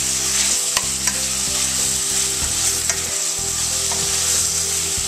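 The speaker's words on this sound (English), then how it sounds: "Because I'm going to saute this for a minute." Chicken sautéing in a pan for a Mediterranean chicken and pasta dish makes a strong, continuous sizzle, with a low steady hum beneath and occasional stirring clicks, loud and close with no talking.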